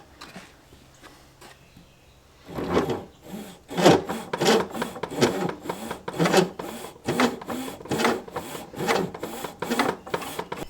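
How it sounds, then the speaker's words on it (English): A fretting saw with a depth stop cuts into wood for a cigar box guitar bridge, a short pause and then steady rhythmic back-and-forth rasping strokes, close and fairly loud. "I meant the ALS guitar fretting saw with depth stop."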